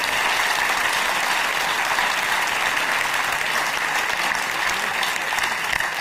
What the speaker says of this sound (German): einen Applaus.